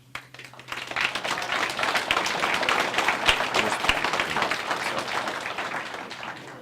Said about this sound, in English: you get an applause even if you don't stand